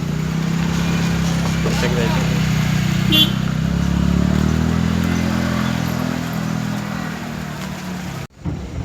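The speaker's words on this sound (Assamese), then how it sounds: "আশীৰ্বাদ কৰিবি গাড়ী চলাব যাম" A car drives along a road in Guwahati, between Jalukbari and Khanapara, with a loud, steady engine drone from inside the vehicle that swells slightly midway and then cuts off abruptly near the end.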